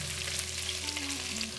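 Goat meat sizzles steadily in a hot pan as ginger is sprinkled in, a constant faint frying hiss with no voices.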